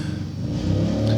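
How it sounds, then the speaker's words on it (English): Car with a loud, faulty exhaust passing close by, a brief throaty revving roar that rises and swells over about a second. "everybody with an exhaust problem just has to drive by here today"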